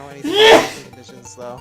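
One loud, close human sneeze bursts out near the start, followed by someone speaking casually in the background.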